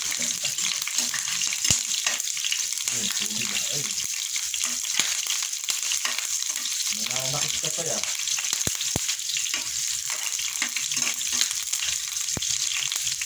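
Fermented fish (burong isda) sautéing with plenty of garlic in a pan gives a steady, close sizzle and crackle throughout, with a few sharp clicks, while a person talks briefly over it.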